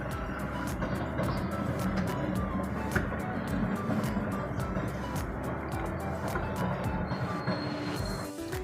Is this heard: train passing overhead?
yes